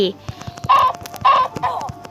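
A video-game chicken clucks in a few short, sharp bursts close up, with a player's voice speaking around the calls.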